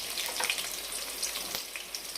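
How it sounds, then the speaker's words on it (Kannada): Green chillies frying in a pan over a low flame, a steady close hiss and crackle of oil with no voices. "ಈಗ ಹಸಿಮೆಣಸಿನ್ಕಾಯಿ ಇನ್ನೊಂದು ಸ್ವಲ್ಪ ಫ್ರೈ ಆಗಲಿ"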